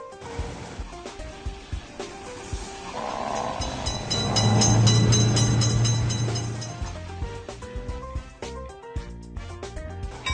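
A train drawing near in the Railroad Crossing game builds to a sustained loud roar for a few seconds in the middle, then fades back beneath steady game music and clicky effects.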